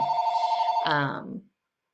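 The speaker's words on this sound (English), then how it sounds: "Nothing like a phone call to interrupt a live recording." A telephone rings during a live recording, a steady electronic ring that breaks into a brief warbling burst before cutting off to silence.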